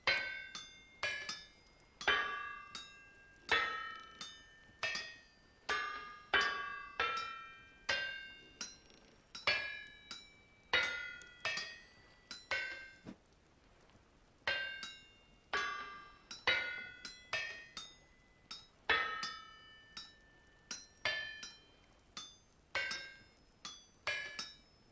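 A hammer strikes iron blooms on a smithing anvil in the Vintage Story video game, producing dozens of sharp, ringing metallic clinks in a steady, slightly uneven rhythm, each blow bright and close with a short decay.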